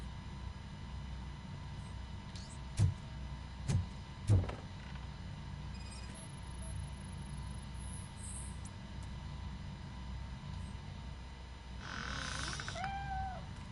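A cat in a Robocop video game gives a short meow near the end, after several sharp clicks and knocks early on, all over a steady low mechanical hum and hiss.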